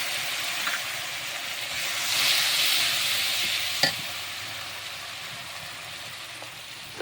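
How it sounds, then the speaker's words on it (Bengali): Onion and garlic frying in a pan as ground dried chili is added, giving a steady broad sizzle and hiss with a few sharp clinks and scrapes of stirring, close and fairly quiet throughout. "পেঁয়াজ রসুনগুলো ভাজা হয়ে গিয়েছে, এখন দিয়ে দেব"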